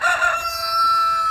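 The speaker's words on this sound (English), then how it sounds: "Roosters." A rooster on a Texas farm crows once, a single drawn-out call that is near and fairly loud, with no talking.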